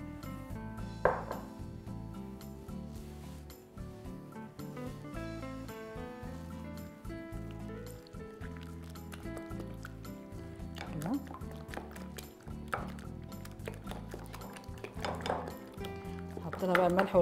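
Eggs are beaten with chopped parsley in a bowl, giving quick wet sloshing and clicking utensil strikes against the bowl in bursts, heard faintly under someone talking throughout.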